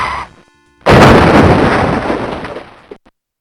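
In the Rise of the Triad first-person shooter, choosing to quit from the menu sets off a booming explosion-like effect, a sudden loud blast that decays over about two seconds, following a short faint tone.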